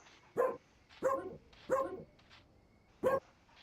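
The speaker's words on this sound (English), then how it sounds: "You can hear him barking if I stop talking." A virtual pet dog in the online game There.com gives four short, sharp barks spaced roughly evenly apart, close and clear with quiet gaps between them.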